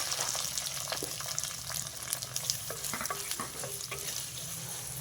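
Chopped onion and green chillies sizzle and fry in hot oil over popped mustard and cumin seeds for a potato curry, a steady close crackle broken by scrapes and clinks of stirring, no voices.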